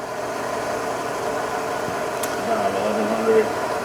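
A Sharp vertical milling machine with an R8 spindle runs at about 1100 RPM in high range, giving a steady mid-pitched mechanical hum under a voice, with a faint rise near the end.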